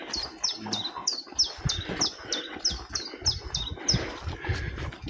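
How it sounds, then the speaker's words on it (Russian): Several birds sing and chirp in a forest, a steady run of short repeated high tweets over faint rustling and footsteps on a trail in the Gomel region of Belarus. "Птички поют."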